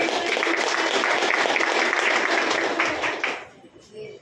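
A crowd claps enthusiastically for about three seconds, then the applause fades out and a voice briefly begins speaking.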